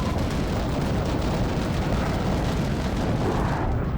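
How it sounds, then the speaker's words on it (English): Bombs dropped by a stealth bomber in Armored Warfare burst in a dense, continuous barrage of loud rumbling explosions that roll together without pause for several seconds. "There he goes, dropping all those bombs."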